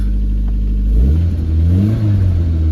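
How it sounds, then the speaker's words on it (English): A cold Cosworth car engine idles with a deep low rumble, then gets a brief rev that swells and climbs in pitch before settling back, loud and close. "Let's give it a little rev."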